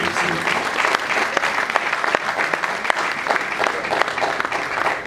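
A group applauds at a press conference, with steady, dense clapping from many hands that stays loud and close throughout.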